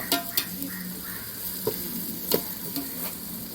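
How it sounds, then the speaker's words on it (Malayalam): Onions frying in a pan for chicken pulao, stirred with a spoon: a steady low sizzle runs underneath while sharp scraping and clinking stirs land every half second or so, close and fairly quiet, with no voices. "ഉള്ളി മൂത്ത് വരുന്നുണ്ട് കുറച്ചുകൂടെ ഒന്ന് ബ്രൗൺ ആവണം"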